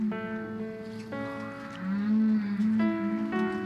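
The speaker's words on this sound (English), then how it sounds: "her tender reading, accompanied by songs of humpback whales" Humpback whale song fills the background: long sustained tonal moans and rising calls with rich harmonics, recurring in three phrases, layered beneath a gentle musical accompaniment.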